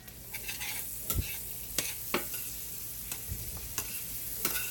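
Onions fry in a pan with a steady hiss and crackle, close by, broken by several sharp scrapes and clicks of a utensil stirring them.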